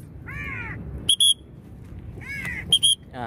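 A six-month-old large crow gives loud, harsh caws twice in a row, each followed by a short shrill electronic beeping, all close and clear with no talk.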